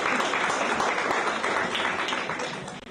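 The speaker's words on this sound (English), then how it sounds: "Give them a round of applause." Audience applause at a school graduation ceremony for a combined school's class of 2024: dense, steady clapping from a crowd filling the whole stretch, loud and close, tapering slightly at the end.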